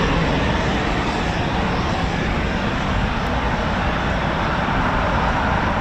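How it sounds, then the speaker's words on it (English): The auxiliary power unit of a Eurofighter Typhoon FGR4 runs at RAF Coningsby, a loud, steady, unbroken roar that holds constant from start to finish. "It's the auxiliary power unit"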